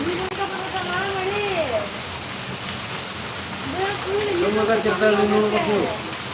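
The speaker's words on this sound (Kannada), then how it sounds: "ಇವತ್ತಿನ ಮಳೆ ಧಾರಾಕಾರ ಮಳೆ ಹೆಂಗ್ ಬರ್ತೈತೆ" Heavy overnight rain in Davanagere hisses steadily throughout, flooding into a house, while voices talk over the downpour.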